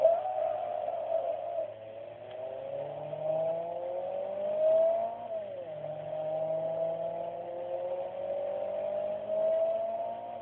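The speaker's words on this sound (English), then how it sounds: "There you have it, that's the CRX." A Honda CRX engine in the Forza 2 racing game revs hard through the gears, a tonal buzzing whine climbing in pitch, dropping at each shift and climbing again, loud and steady throughout.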